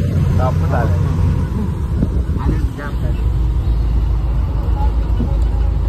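Vehicle engine and road rumble from inside a car moving slowly on the way home in traffic, a steady low drone throughout with voices chattering over it.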